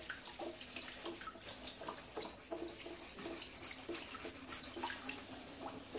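Water runs steadily from a tap while a sponge is used to wash a surface with plain water, with a continuous splashing hiss and occasional soft scrubbing accents, close and fairly loud throughout.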